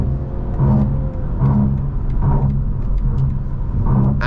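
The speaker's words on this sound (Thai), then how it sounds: "ดูการเร่งแซง" BMW 530e M Sport G30 LCI plug-in hybrid sedan, a 292-horsepower petrol hybrid, accelerating to overtake on a road, giving a steady, loud engine and road rumble with a rising whir and no talk.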